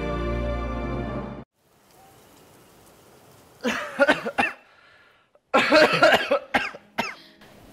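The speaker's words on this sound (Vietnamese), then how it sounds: "vẫn muốn ho đến nổ phổi thế này" A man coughs hard in two violent, rasping bursts separated by a pause, close and loud, the second fit longer with several rapid hacking coughs.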